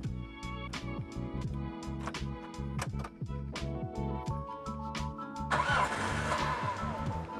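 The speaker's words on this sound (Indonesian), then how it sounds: "kita akan coba start dan dengerin suara mesinnya" A carbureted 1999 Daihatsu Taruna CSX cranks with a rhythmic starter whir for several seconds, then fires on the first attempt and settles into a rough, steady running idle, recorded up close.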